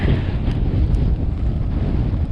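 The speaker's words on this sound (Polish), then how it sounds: "Tak wieje." Strong wind gusts buffeting the microphone at an exposed border crossing on the Śnieżnik mountain trail in harsh weather, a loud continuous low roar with no voices.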